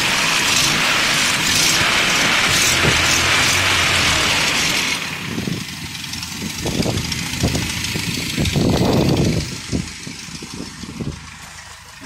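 Engine of a 1986 Toyota pickup extended cab 4x4 with aftermarket intake and Flomaster exhaust idles close by for several seconds, then the steady rumble drops back and gives way to scattered knocks and handling sounds.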